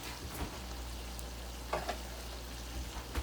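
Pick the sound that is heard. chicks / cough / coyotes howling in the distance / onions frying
onions frying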